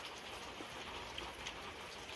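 Steady rain falls on a homestead cabin build site, a dense, even patter with a few sharper drops and no one speaking.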